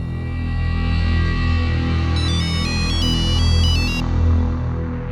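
A bright electronic ringtone chimes in a short repeating melody for a couple of seconds over a low, steady hum of background music.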